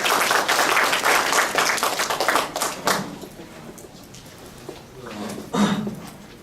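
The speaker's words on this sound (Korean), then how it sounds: "박수로 환영해 주시기 바랍니다" Audience applause welcomes new university teams at a student-built car competition safety briefing, a dense burst of clapping that thins out and fades, then returns briefly in scattered claps.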